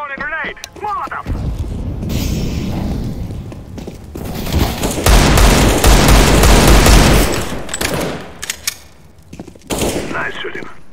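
Dense gunfire and booming blasts fill a CS:GO match, with rapid automatic bursts, heavy thuds and a sustained roar of fire at the center, loud and close, while voices call out at the start and end.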